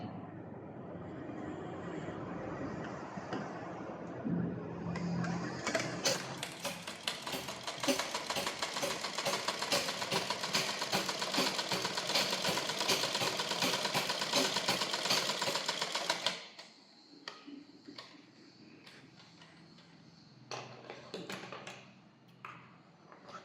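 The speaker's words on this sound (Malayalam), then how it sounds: "അതിനെ നമുക്ക് ഇങ്ങനെ ആദ്യം തയ്ക്കാം" Sewing machine stitching together two fabric strips seven by three inches, a steady fast whirring run of about ten seconds in the middle, loud and close, then stopping, with quieter handling sounds before and after.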